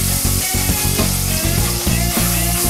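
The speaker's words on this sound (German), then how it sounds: "Das geht nur so, indem wir das ganz kurz anbraten." Cod fillet sears briefly in butter in a hot pan, a loud, steady, close sizzle with faint stirring or shifting noises, no voices.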